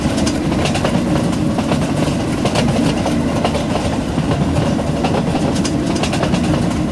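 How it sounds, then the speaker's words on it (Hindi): A Vistadome-coach Humsafar Express hauled by a WDM3D diesel locomotive runs through a station at full speed in an Indian train simulator game. The rumble is steady, loud and close, with clickety-clack wheel rhythm throughout and no talking. "ये स्टेशन को चीरती हुई हमारी ट्रेन फुल रफ्तार में निकल गई"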